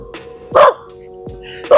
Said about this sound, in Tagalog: Kasi binabatok na tayo ng aso.